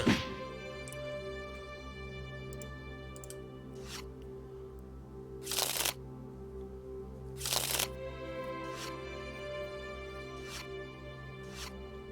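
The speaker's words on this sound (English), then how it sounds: "right here is when everyone would shuffle their trash into their deck" Cards being shuffled into a deck in the Sentinels of the Multiverse video game, two short, sharp riffling bursts over a steady, quiet musical hum.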